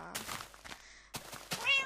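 A Minecraft cat meows several times in quick succession, short bright mews with brief gaps, clear and close with no talking.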